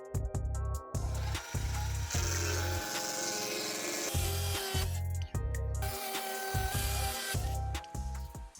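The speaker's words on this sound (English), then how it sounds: "First, I have to measure the plywood and cut the plywood into the correct length." A power tool cuts plywood to length for a shed floor, with loud repeated bursts of whining motor and saw bite separated by short pauses, close and steady throughout.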